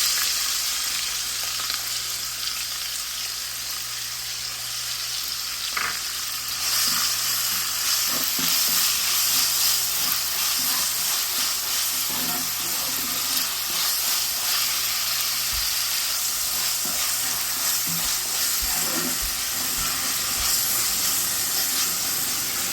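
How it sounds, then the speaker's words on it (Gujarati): Onion frying in a pan with ajwain seeds, a steady broadband sizzle with occasional stirring clicks, close and continuous, growing slightly louder partway through, with no talking. "સ્મેલ આવે એટલે એમાં થોડું કાંદો નાખી નાખવાનું."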